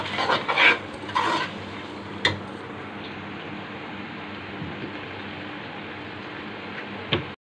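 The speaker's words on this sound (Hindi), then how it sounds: "अभी हमने इसमें ज़ीरा डाल दिया और इसको हम भूनेंगे, थोड़ा आग को हम तेज़ करेंगे।" Cumin seeds roasting in a hot pan over raised heat for a ridge gourd (turai) sabzi give a steady, soft sizzling hiss, with a few louder clinks and scrapes of a spoon near the start.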